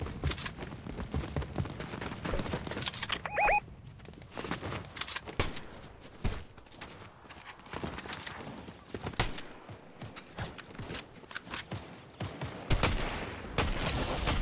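Fortnite gunfire: rapid bursts and single sharp shots crack out repeatedly, some close and loud and others farther off, scattered in irregular volleys across the whole stretch.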